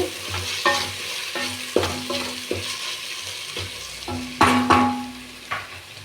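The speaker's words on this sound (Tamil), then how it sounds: "மல்லி புதினா வதங்கியாச்சு." Coriander and mint leaves stirred and fried in a pan for chicken biryani, with a steady sizzle broken by repeated scraping strokes of a spoon, a couple of louder ones near the end, close by with no talking.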